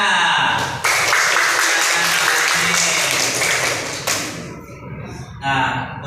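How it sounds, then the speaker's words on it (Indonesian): A class of students in an Indonesian classroom claps together for about three seconds, dense and loud, then fades into a teacher speaking. "Tepuk tangannya."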